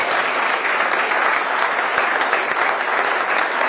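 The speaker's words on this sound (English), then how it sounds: "So I think that deserves a round of applause." An audience gives steady, dense applause welcoming Brent Brennan as the new head football coach at the University of Arizona, a continuous wash of many hands clapping with no talk over it.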